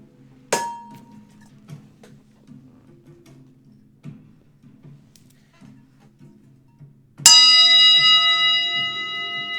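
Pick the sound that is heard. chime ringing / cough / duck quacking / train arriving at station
chime ringing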